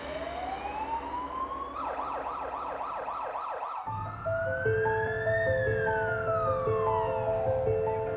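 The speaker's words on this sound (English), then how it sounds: "He's being loaded up into the ambulance and being transported as we speak." An Australian ambulance siren wails up and down, then switches to rising and falling tones, loud and close over steady road noise.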